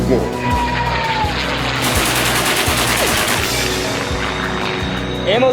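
Sustained machine gun fire in an action film about attacking an enemy airbase, a dense rapid rattle of shots over engine roar and aircraft noise, continuous and loud, with a voice speaking briefly.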